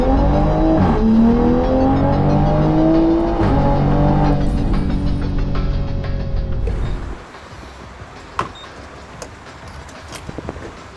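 A tuned B58-engined sports car running E85 accelerates hard with wheel spin, a loud rising engine roar through several gear shifts that cuts off after about seven seconds, leaving quieter mechanical clicks and knocks.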